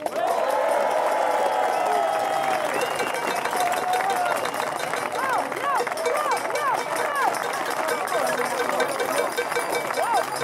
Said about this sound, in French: Je vous prie d'applaudir Florian Philippot.